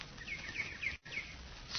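Jungle birds in a radio drama sound effect: a quick series of bright, repeated chirps, evenly spaced and fairly close, interrupted by a brief gap, with no voices.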